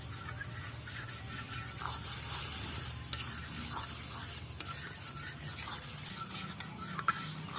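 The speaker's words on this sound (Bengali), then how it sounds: "এবার ভালো করে আমি কষিয়ে নেব।" Masala of Kashmiri chilli and salt sautés in oil, a low steady sizzle with scraping stir strokes and occasional sharp clicks, close and fairly quiet.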